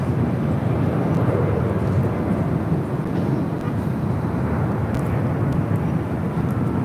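A Southwest Airlines Boeing 737-800 arrives at LAX, a dense broadband jet roar rolling steadily at a moderate distance, with no voices over it.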